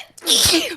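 A single sharp human sneeze, close and fairly loud, with a quick inhale before the burst and no talking.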